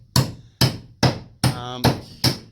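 Six evenly spaced, loud, sharp hammer blows on a chisel as a notch is cut out of an angled timber truss during a ceiling job, each strike ringing briefly, with no voices.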